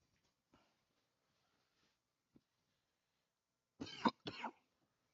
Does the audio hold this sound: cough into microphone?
yes